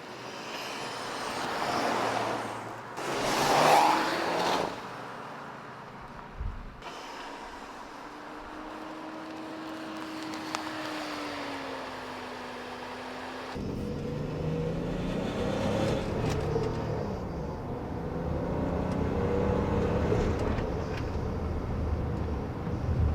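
BMW X5 bought at auction, fuel pump replaced, driving along with engine and road noise throughout, a loud surge early on, then a steady drone with a rising and falling whine; no speech.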